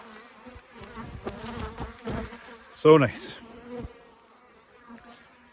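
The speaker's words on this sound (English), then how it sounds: "boxes of bees." Bees swarm thickly around hive boxes late in the season, a steady insect buzz filling the scene while a person speaks briefly over it.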